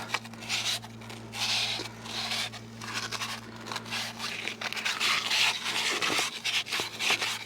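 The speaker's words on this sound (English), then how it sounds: "some wet or dry sandpaper, and just polish it right up" Wet or dry sandpaper rubbed over a metal sway bar part on a Jeep JK Rubicon, lubricated with WD-40, giving steady repeated rasping strokes close up over a low electrical hum.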